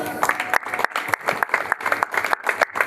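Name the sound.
applause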